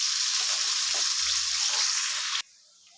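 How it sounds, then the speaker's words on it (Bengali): Chopped onion and dried chillies sizzling in hot oil while being stirred in a pan: a loud, even hiss with a few soft scraping bumps, cutting off abruptly near the end. "কেটে রাখা পেঁয়াজটা দিয়ে দিচ্ছি, দিয়ে একটু নাড়িয়ে নিচ্ছি।"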